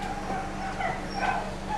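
Several puppies yip and whimper in high, overlapping little barks against a steady background hum, close and fairly loud.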